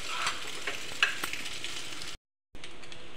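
Egg fry is stirred in a hot pan, with a soft continuous sizzle under light scraping and stirring strokes, broken by a brief silent gap.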